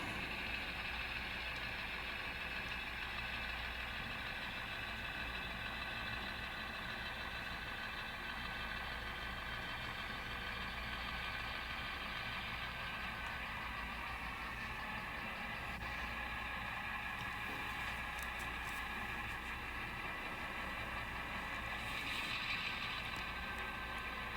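A Norfolk Southern train switches cars at the auto plant in Wentzville, heard from a hotel room. A steady, distant diesel engine rumble and idle drones on continuously at low volume.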